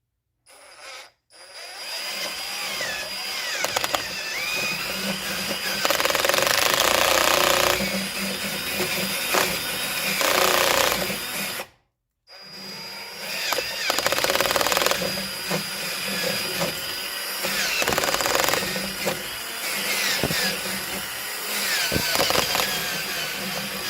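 Power drill spinning a modified bit with a narrowed shank through an extension, running in long sustained whirring bursts with two brief stops, loud and close with a rough grinding edge.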